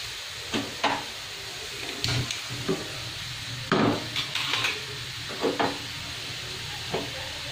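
Ingredients for vegetable msemen (meloui) being stirred and mixed together in a bowl, with a soft steady scraping and intermittent clinks of a utensil against the container, close and without talk.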